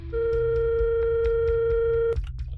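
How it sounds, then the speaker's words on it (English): Car phone in the rear passenger seat of a car: a steady electronic telephone tone holds for about two seconds, overlaid by faint clicks, then breaks into short irregular beeps as the number is dialed. "reaches for the car phone, and dials"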